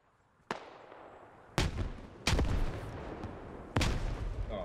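Grenade explosions in the military shooter game SquadOps: four sharp, heavy blasts go off in an irregular sequence, each followed by a rumbling tail, loud and close, with no talking.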